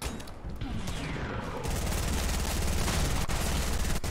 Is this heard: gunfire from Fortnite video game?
yes